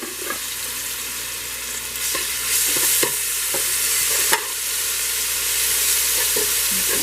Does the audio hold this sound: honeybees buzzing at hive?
no